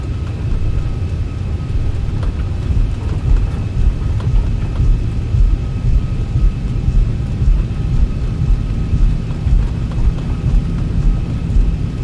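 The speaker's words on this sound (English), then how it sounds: "Ooh, rain" Steady rain beats on the cockpit of a Zibo Mod airliner in a flight simulator near Porto, Portugal, a dense continuous hiss over a low engine rumble that holds unbroken throughout.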